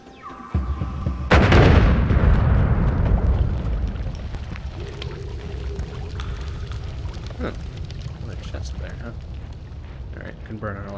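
A bomb exploding in Noita: one sudden loud blast that rolls into a long, rumbling decay, followed by softer scattered crackles while a person talks.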